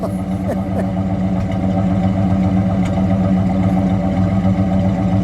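A 1964 Plymouth Savoy two-door with a 426 Street Wedge V8 idles steadily nearby, a loud, deep, lumpy rumble with no revving.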